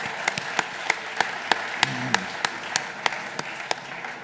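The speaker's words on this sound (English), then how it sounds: "Nice round of applause for the team from Pink." Applause for a startup team at a fintech startup challenge final, a sparse, steady patter of individual claps from a modest audience at moderate level throughout.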